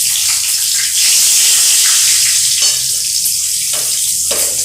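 Nigella seeds, dried red chili and green chilies sizzle in hot oil, a steady, loud crackling hiss with bursts of spattering and no voices.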